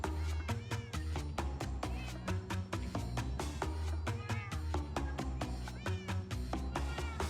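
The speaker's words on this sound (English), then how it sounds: "Crazy teleporting cats." Cats in the Minecraft video game meow repeatedly over steady background music with a regular beat, the short mews recurring throughout at moderate loudness.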